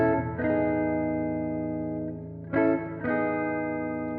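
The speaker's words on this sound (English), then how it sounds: "You got spring reverb," Electric guitar through an amp's spring reverb plays sustained chords with a couple of fresh strums, each ringing into a drawn-out, splashy tail; no voices.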